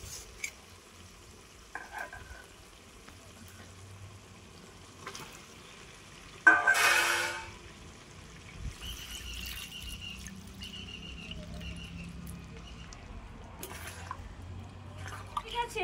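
Potatoes and water going into a pan of frying chicken curry, with a loud sudden splash and hiss midway, then steady sizzling and occasional stirring scrapes.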